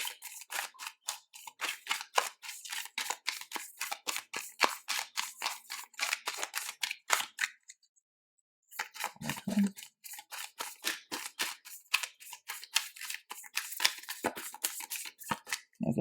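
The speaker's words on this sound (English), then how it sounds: "Just gonna shuffle these." An oracle card deck is shuffled by hand, with a long run of quick, crisp riffling snaps close up, a brief pause midway, then more rapid shuffling.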